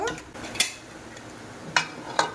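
A metal spoon scraping and clinking in a pot of chicken biryani masala being stirred, with a few sharp knocks of utensil on the rim and a lid being set on; fairly quiet and close, no talking.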